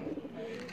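Pigeons coo softly nearby in a brief, low murmuring phrase.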